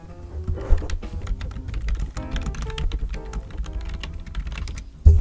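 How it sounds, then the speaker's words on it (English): Continuous typing on a computer keyboard, a steady patter of key clicks in the background at moderate level, with a brief louder knock near the end. "I wonder if you can hear the typing in the background."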